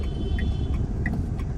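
Road traffic in Satyanagar, India, during Ganesh Chaturthi celebrations: a continuous low engine rumble from nearby cars, with a few faint higher clinks over it.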